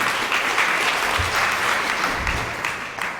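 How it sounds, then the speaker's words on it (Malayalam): A retreat audience claps for the sisters, a dense, steady burst of applause from a large crowd filling the room for a few seconds at fairly loud, even volume. "നമുക്ക് സിസ്റ്റർമാർക്ക് ഒരു കയ്യടി കൊടുക്കാം"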